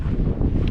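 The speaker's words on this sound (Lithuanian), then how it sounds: "Vėjuks toks nemalonus" Cold wind buffeting across an exposed hilltop on an Irish trail, a steady low roar and rumble against the microphone with no let-up.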